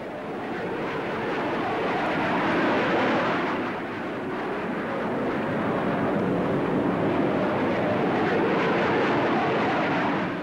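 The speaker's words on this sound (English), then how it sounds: "The Avro CF-100 is a two-seater, long-range, all-weather fighter." Avro CF-100 two-seat all-weather fighter roaring past at the 1955 Farnborough air show, a loud continuous broadband jet rush that swells, dips briefly, then holds steady throughout.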